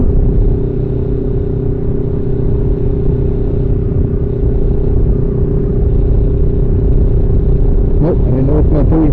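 A motorcycle engine drones steadily while riding on Île aux Coudres, a loud continuous low rumble with wind, rising slightly toward the end with some clatter.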